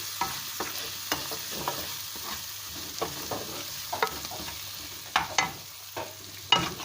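Onion, ginger, garlic and chili fry in a pan for chicken do pyaza, with a soft, steady sizzle. A spoon scrapes and stirs in regular, close strokes throughout.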